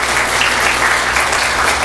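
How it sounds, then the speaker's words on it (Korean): Church congregation giving a big welcoming round of applause as the pastor comes forward, a loud, dense and steady burst of clapping close by. "우리 목사님 나오실 때 여러분 한번 환영의 큰 박수로 다시 한번 맞아주시면 감사하겠습니다"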